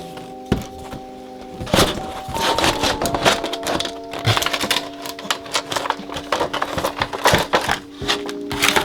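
Sharp cracks, thunks and scraping taps ring out as a knife cuts open the packaging of a Jean Grey action figure, irregular and close over a steady background hum.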